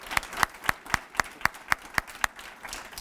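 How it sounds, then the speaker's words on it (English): Sharp, evenly spaced claps ring out about nine times in a steady rhythm, like a small group applauding at a community celebration in a room, fairly faint and distant, with no talking. "everybody deserves a round of applause"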